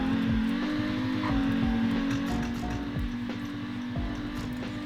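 Loud car engine roaring steadily with revving and rising pitch as it accelerates, close by and continuous throughout.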